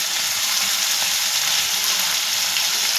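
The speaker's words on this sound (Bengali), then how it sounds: "এই যে চিংড়ি মাছটা দেওয়া হয়ে গেছে, এবার একটুখানি ভেজে নেব।" Prawns fry in a pan with a loud, dense and continuous sizzle, close up and unbroken, with no talking.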